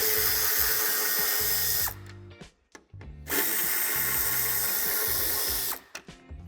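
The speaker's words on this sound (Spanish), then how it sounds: "Quitaremos los dos tornillos de Tor de 20." A cordless power driver backs out two Torx T20 screws during towbar fitting on a 2020 Škoda Octavia IV: two close, loud whirring bursts, the first about two seconds long and the second longer, with a short gap and faint clicks between them.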